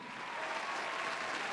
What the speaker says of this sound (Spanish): Un fuerte aplauso del público que no tenemos para Philip Kustik